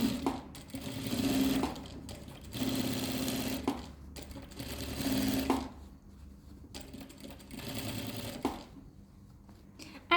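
A sewing machine stitches boning into the bodice of a European-style bridal gown, running in several quick bursts broken by short pauses, close and fairly quiet.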